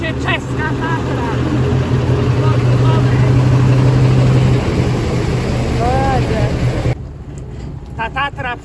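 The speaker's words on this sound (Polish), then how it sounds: "Tu jedzie czeska Tatra." A Czech Tatra military evacuation truck grinds through knee-deep flood water, its engine a loud steady drone that swells and then drops away, while people talk nearby.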